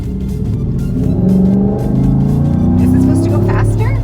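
A Cadillac Escalade fitted with a K&N cold air intake accelerates, its engine note a loud, steady low rumble and rising drone heard from inside the cabin, with some voices in the background.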